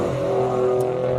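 Toyota Yaris GR race car, number 3, running at a Cape Town hill climb: a steady, loud engine drone with a held whine, close by and alone for about a second.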